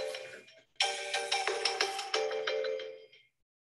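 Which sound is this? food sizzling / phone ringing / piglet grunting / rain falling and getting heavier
phone ringing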